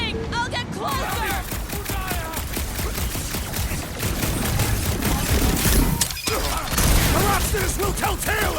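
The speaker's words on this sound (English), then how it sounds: "Keep shooting!" Rapid bursts of video game gunfire from Guardians of the Galaxy crackle almost continuously through the scene, loud and dense, with voices and music layered over the shooting.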